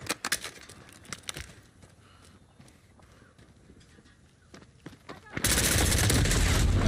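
AS VAL rifle gunfire in a video game, a quick burst of sharp suppressed shots at the start, scattered fainter reports through the middle, then a loud sustained noisy blast of fire near the end.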